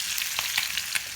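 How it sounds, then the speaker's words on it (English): Beef spare ribs sizzle in a casserole dish, a constant hiss with a few sharper crackles and pops, close by. "you can see the ribs sizzling a bit there"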